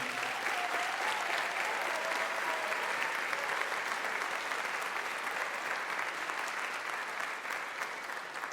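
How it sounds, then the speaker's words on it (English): A concert audience at a university honor band performance applauds with dense, steady clapping that holds at an even level for several seconds, filling a large hall with no speech over it. "We have a round of applause just for everyone that supported these young musicians on their journey."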